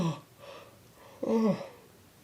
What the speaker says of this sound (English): Just go ahead and yawn. Start a yawn and then complete it.